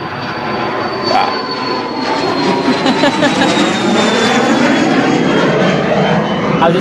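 Cessna Citation business jet taking off at Manchester Airport, a loud, sustained roar with a high whining tone that slowly falls in pitch as the jet climbs away.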